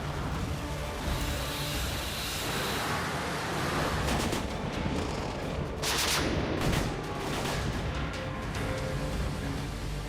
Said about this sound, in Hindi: करीब आधे घंटे तक ये लाइव फायर अभ्यास चला।